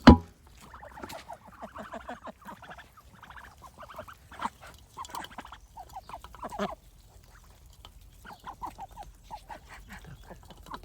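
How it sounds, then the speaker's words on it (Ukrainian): Ducks on a small homestead eat from feed scattered for them in the evening, giving soft, busy dabbling and quiet quacking at close range after an initial thump. "Ось зараз, друзі, будемо разом з вами годувати наш моїх качок."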